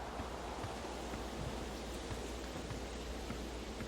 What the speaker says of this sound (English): we'll just stop here and just watch the lovely soothing waterfall